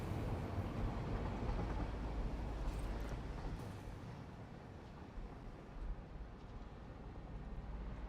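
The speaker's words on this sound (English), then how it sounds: "Oh, the train." A train rumbling past in the factory-building video game Satisfactory, a loud, steady low roar that eases slightly midway and then builds again, with no one talking over it.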